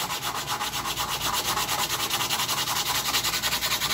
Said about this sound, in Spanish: Y antes de pegarlo, tengo que lijarlo todo.